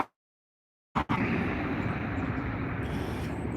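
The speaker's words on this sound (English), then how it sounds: "That was quite the buzzsaw coming off the A320-200." An Airbus A320-200 taxiing at Dublin Airport gives off a loud, steady engine roar with a buzzing, rasping edge. It cuts in abruptly after a second of silence and holds close and constant to the end.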